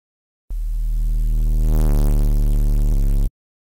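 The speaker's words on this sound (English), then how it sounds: "and then distort these two together." Distorted Serum bass patch blending a sine sub with noise, held as one loud, buzzing tone about three seconds long that swells slightly partway through, with no voices.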